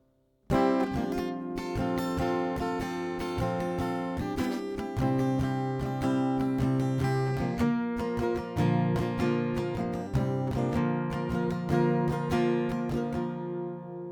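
Acoustic guitar strumming chords of a song in a steady rhythmic pattern, starting on A, close and clear, with no voices for about fourteen seconds.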